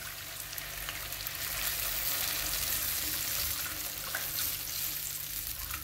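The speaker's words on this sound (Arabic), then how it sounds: "ها نزيد نخليها تتقلى مليح. من بعد ما تقلى لي البصل" Onions sizzling and crackling steadily in a hot pan of oil for Algerian dolma, a continuous close, even hiss with no speech.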